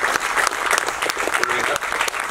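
Audience at an award event honouring social welfare workers giving a burst of steady, dense applause, close and continuous throughout.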